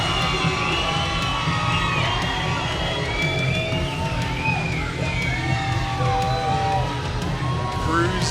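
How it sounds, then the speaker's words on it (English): A crowd at a combat sports event cheers and whoops continuously, with scattered shouts rising over a steady roar; applause is not distinct under the noise. "Cruz getting a nice round of applause from her contingent of fans."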